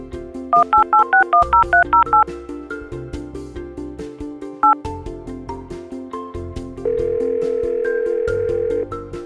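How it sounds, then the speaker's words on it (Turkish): Phone in a Bluey video game: a rapid run of about ten dialing beeps, a single further tone, then a steady dial tone lasting around two seconds, set over soft game background music with no talking. "Şimdi Arena'yı arayacağım"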